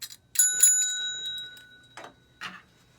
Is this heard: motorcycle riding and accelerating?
no